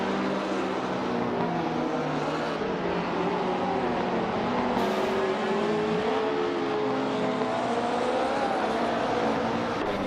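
Race cars in a video game, engines whining and revving as they duel and overtake, with layered shifting pitches that rise and fall over a continuous loud roar.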